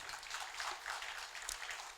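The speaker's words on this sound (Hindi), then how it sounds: "आप सबकी तालियों में रागिब साहब का इस्तकबाल है।" A seated crowd at an AMUOBA mushaira gathering claps to welcome a guest onto the stage, producing a brief, dense wash of applause that stays steady and moderately loud throughout.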